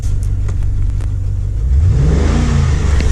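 A Holden VE 6.0L V8 running rough and misfiring from a broken pushrod, heard up close as a loud uneven rumble with lumpy, stumbling pulses that swell into a brief rev toward the end.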